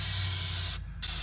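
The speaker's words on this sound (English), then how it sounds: "I want to spray some here" Undercoating spray hisses from an aerosol can onto rusty hydraulic fittings and lines of an old ASV RC50 skid steer, a loud close-up spray in two bursts with a brief gap between.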